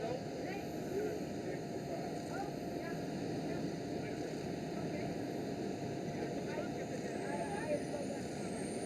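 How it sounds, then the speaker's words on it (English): A Transavia Boeing 737 airliner passes at Amsterdam Schiphol as a faint, steady broadband engine rumble, distant and continuous, with wind and outdoor ambience over it. "There goes a Transavia 737."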